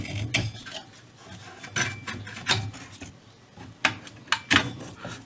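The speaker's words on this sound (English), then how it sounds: "And just take these 2 screws off the back and it should come off." Screws being worked loose from the back of a 1938 Healing 448E radio chassis, a series of scattered metallic clicks, scrapes and sharp taps from a screwdriver and hardware at close range, irregularly spaced with quiet gaps between.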